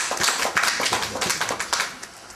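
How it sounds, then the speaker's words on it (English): Audience clapping for a student in a classroom-style gathering, a brisk burst of many hands slapping in loose rhythm, near and steady for a couple of seconds before tapering. "Clap for her. She wrote Yablaka."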